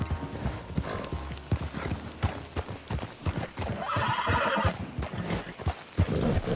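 Arthur's horse in a Western open-world video game trots with steady clip-clop hoofbeats and lets out a loud whinny partway through, over game ambience and music.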